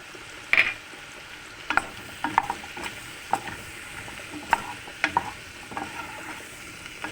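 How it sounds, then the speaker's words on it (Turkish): Flour being stirred and roasted in a pan, a spoon scraping and clicking against the metal in irregular sharp taps over a soft, steady sizzle, close and fairly quiet, with no voices. "Unu da kokusu çıkana kadar kavuracağım arkadaşlar."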